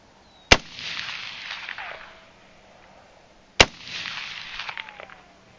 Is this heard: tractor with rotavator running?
no